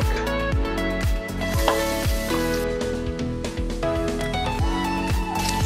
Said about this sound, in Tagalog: Stir fry natin ang ating garlic.